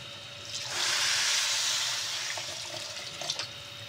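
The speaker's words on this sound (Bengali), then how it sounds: "এখন পানি অ্যাড করে দেবো।" Water pours into a pot of rice and lentils fried together for khichuri, a rushing hiss that swells in after a moment, holds, then eases, with a few small splashes near the end.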